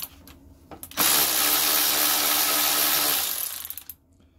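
A Draper Storm Force 10.8V 3/8-inch cordless ratchet strains against stubborn bolts: a few light clicks, then one sustained loud motor whir lasting about three seconds before it cuts off.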